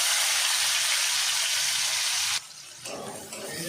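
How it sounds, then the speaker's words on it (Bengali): Loud, dense sizzling of onion and garlic frying in a pan, then it drops suddenly and continues more quietly with some stirring sounds. "একটু ভালো করে ভেজে নেব আমি রসুন পেঁয়াজটা"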